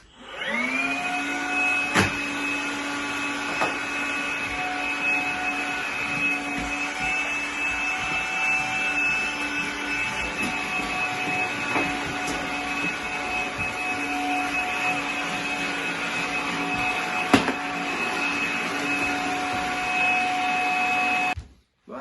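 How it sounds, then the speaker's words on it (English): Makita 18V cordless vacuum cleaner running with a waste pipe fitted to its hose, a loud, steady high whine held nearly unbroken, with a few brief knocks, before it cuts off at the end. "So let's do a little bit of vacuuming."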